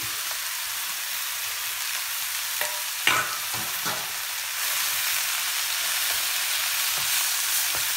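Mushrooms added to a pan of veal marengo, frying with a steady bright sizzle while a utensil stirs them, a few scraping knocks near the middle before the hiss swells slightly and carries on unbroken.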